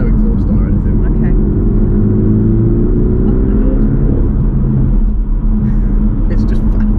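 A Porsche 718 Cayman GTS engine accelerating in normal mode with the sports exhaust off, a steady loud droning rumble with rising tones heard from inside the car while people talk over it.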